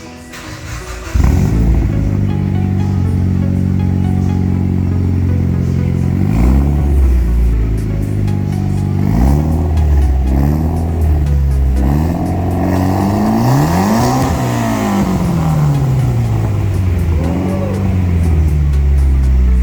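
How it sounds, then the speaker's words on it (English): A Mitsubishi Evo X with a newly installed Invidia N1 exhaust idles with a deep, steady rumble, then is revved repeatedly, the engine climbing and falling in several close, loud blips before one longer rev near the end. "I am really happy with the installation of the new exhaust. It sounds really nice, really clean"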